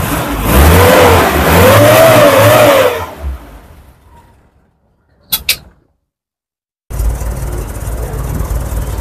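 A 1992 Suzuki Futura minibus engine is revved hard during an exhaust check, rising and falling in loud surges before cutting off, followed by silence, a brief knock, then the engine settling back into a steady idle.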